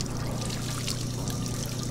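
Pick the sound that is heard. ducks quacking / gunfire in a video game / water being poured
water being poured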